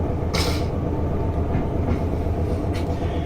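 A South Western Railway train in Train Simulator rumbles along steadily with a low continuous roar, faint rail clicks and occasional brief hissing bursts.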